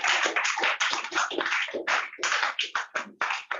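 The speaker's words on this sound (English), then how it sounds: "A round of applause," An audience at a talk on mental health support for visually impaired persons claps for a speaker, steady close hand applause with bursts of individual claps and no voices.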